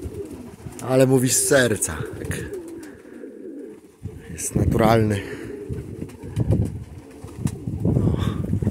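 Pigeons cooing inside a pigeon loft, a few soft throaty coo phrases close by, with wing flutters and rustling around them while someone talks in Polish over the birds.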